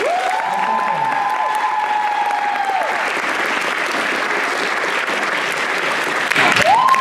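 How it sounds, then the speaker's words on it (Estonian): An audience at a school camp event claps warmly for the jury and performers, a dense sustained round of applause over several seconds, with music tones and a voice briefly audible over it. "Anname palun ühe kuuma aplausi meie žüriile ja esinejatele."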